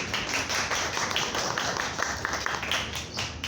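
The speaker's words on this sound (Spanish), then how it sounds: "quiero que le den un aplauso y la bienvenida" An audience at a press conference on COVID-19 claps to welcome a doctor, a moderate, steady patter of hands with individual claps distinguishable, continuing evenly throughout.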